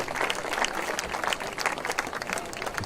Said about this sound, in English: The fans give her a big round of applause.